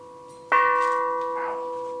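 A 70-year-old gas cylinder hung as a wind chime, tapped once with a fingertip, rings out with a clear bell-like strike and a sustained, slowly fading metallic tone with steady overtones.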